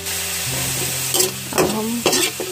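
Onions frying in a pan, a close, steady sizzle broken by three or four distinct spatula scrapes and stirs.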